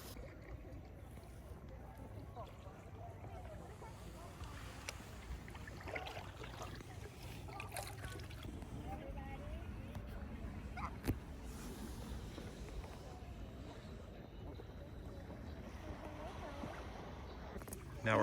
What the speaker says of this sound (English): I think we're gonna have to paddle a little bit.